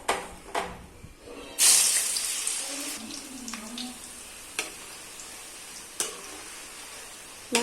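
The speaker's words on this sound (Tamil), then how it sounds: "இங்கே இப்போ ஆயில் நல்லா காஞ்சிட்டு இப்போ கட் பண்ணி வச்ச கருணக்கிழங்கை அப்படியே கொட்டி வேக வச்சிடலாம்." Cut pieces of elephant foot yam dropped into hot oil burst into a loud sizzle that gradually settles into steady frying, with a few sharp clinks and stirring sounds close by.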